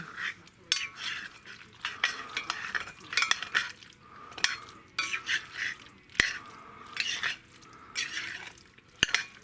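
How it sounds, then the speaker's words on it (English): A spoon scrapes and stirs a queso-style burger mixture made with canned mac and cheese in a pan, in repeated close scraping strokes with occasional sharp clinks of utensil on metal and a faint sizzle underneath. "We're gonna mix that all in."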